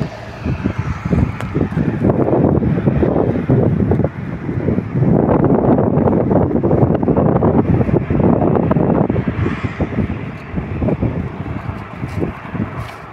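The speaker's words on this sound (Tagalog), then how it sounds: "Malakas ang hangin." Strong sandstorm wind buffets the microphone in loud, continuous gusts, roaring steadily with brief dips, and no one speaks.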